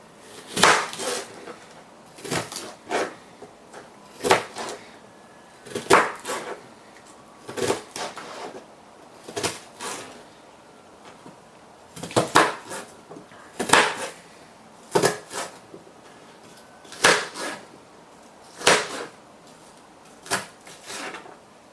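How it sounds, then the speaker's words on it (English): A knife chops a peeled onion on a board in short bursts of sharp thuds, a few quick strikes at a time separated by brief pauses, with faint background room sound. "So I'm chopping up the onion."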